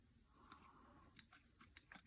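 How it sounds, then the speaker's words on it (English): KB straight form tailoring scissors snip through a paper nail form in a quiet room, giving faint, sharp, isolated clicks of the blades closing. "I'm bringing the KB straight form tailoring scissors"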